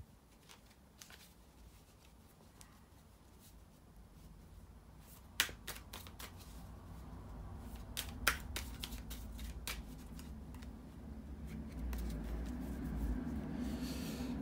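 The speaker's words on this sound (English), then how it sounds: "bear with me a second, guys, to shuffle the tarot cards" Quiet riffling and soft snapping of tarot cards being shuffled, with a few sharper flicks and rustles, close up, no voices.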